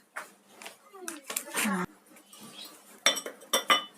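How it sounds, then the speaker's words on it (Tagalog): Small decorative stones drop into a glass jar with several sharp clinks and rattles, some clustered, while a voice is heard faintly in the background. "Lalagyan ko lang ng stones para mayroong kunting kulay-kulay."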